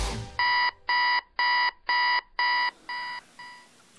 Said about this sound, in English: Alarm just went off.